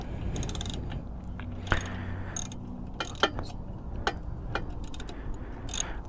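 Ratchet wrench loosening motorcycle exhaust bolts, scattered clicks and metallic ratcheting bursts, close but fairly quiet, with no talk.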